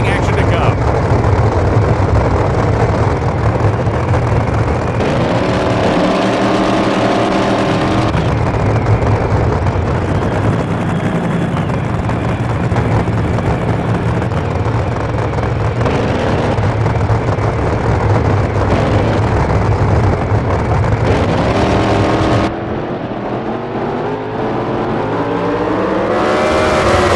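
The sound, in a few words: drag racing cars in NHRA Speed for All video game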